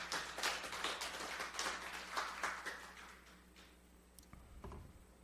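Congregation applause at a Korean church worship service, a dense patter of many hands clapping that gradually thins and fades out toward the end, with no voices over it.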